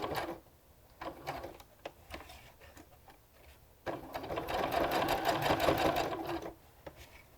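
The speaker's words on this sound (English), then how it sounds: "Stitch and then pivot with the needle down, and we're going to create a little box." Sewing machine stitching a small box with an X inside over an elastic join, with short bursts of stitching and pauses for pivoting, then a steady, close run of rapid mechanical needle clatter.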